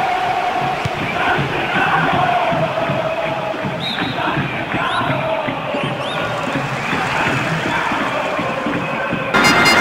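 Stadium crowd in Winning Eleven 10 during a Santa Catarina state league match, Tubarão against Marcílio Dias, a continuous loud murmur and chanting roar with occasional swells, a commentator talking over it.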